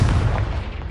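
A Confringo explosive spell blast from the Hogwarts Legacy video game, heard as one loud, rumbling low boom that fills the moment and slowly fades.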